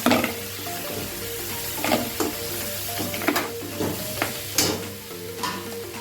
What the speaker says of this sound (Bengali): একটু তেল দেবো একটু জিরে ফোড়ন দিলাম